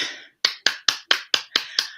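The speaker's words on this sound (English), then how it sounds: "I'm clapping my hands because of the wonderful blessings that we have here" Seven or eight sharp hand claps in a quick, steady rhythm, close and fairly loud, with a brief pause after the first burst.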